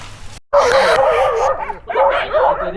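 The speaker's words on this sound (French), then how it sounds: "Bon, il y a une confrontation de chiens." Dogs bark and yip in a tense confrontation between two groups, with loud overlapping barks and whining close by in an outdoor setting in Thailand.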